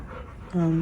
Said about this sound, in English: My Labrador has just come in, and either it's really hot outside or she's just freaked out.